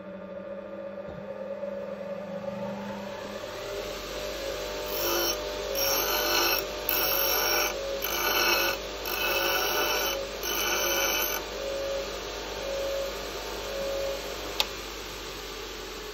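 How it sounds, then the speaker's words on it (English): A bench grinder squares up the cut end of a Lucas 45/59D distributor shaft: a steady motor whine and hum runs throughout, with a series of repeated grinding bursts as the metal is pressed against the wheel. "we square up the cut end with the bench grinder"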